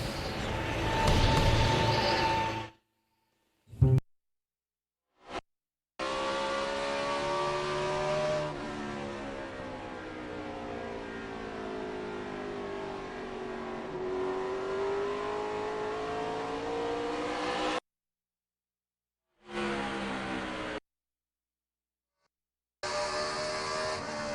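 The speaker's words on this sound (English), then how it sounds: "Kyle Busch continues to lap cars here at Richmond" NASCAR Cup Series stock cars circle Richmond in a 2006 race, engines revving and sweeping past in rising and falling waves of roar, broken by abrupt cuts to silence between bursts.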